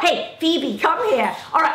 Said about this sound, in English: I'm gonna go because my dog's going ballistic